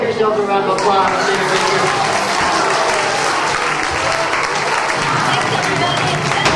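An audience applauds loudly at the close of a magic show, a dense, continuous roar of many hands clapping together, with a voice speaking over the start.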